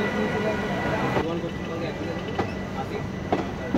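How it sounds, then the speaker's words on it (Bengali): A passenger train pulls out of Sealdah station bound for Rampurhat, giving a continuous loud rumble of wheels and carriages with faint clicks and a few sharp rail knocks, heard from on board. "একদম রাইট টাইমে আমাদের ট্রেন ছেড়ে দিল রামপুরহাটের উদ্দেশ্যে"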